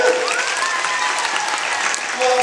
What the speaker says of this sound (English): Is there a little hand clapping out there?